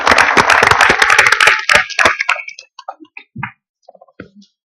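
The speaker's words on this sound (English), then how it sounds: "a big round of applause for both lightning pitchers and our attendees" An audience at a corporate growth event applauds. Dense clapping starts loud and thins out to a few scattered claps.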